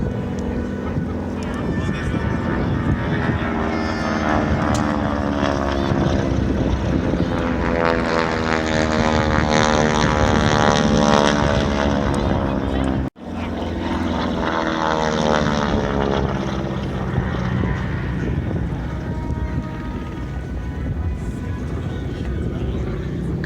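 A propeller aircraft from a private collection flies at an airshow, its engine droning loudly and steadily throughout, rising and falling slightly with a brief cut partway through.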